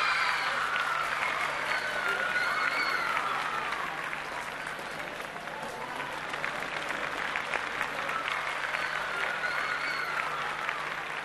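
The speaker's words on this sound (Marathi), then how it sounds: "जोरदार टाळ्या यांच्यासाठी" An audience at a Mangalagaur games event claps for the winning team, with sustained loud applause and crowd murmur throughout and a voice speaking over it.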